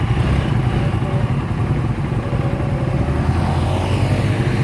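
A new Demak motorcycle engine in Malaysia runs steadily at a low, rumbling idle with a busy mechanical clatter, loud and close, with no speech over it.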